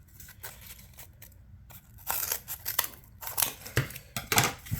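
Scissors cutting through card packaging, a quiet stretch of small snips and rustles followed by a series of louder, close crisp cuts and crinkling bursts.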